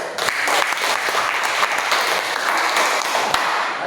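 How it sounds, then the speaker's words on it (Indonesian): An audience applauding a presenting group in a classroom setting, dense steady clapping from many hands close by, sustained throughout without talk. "Oke, aplaus untuk kelompok."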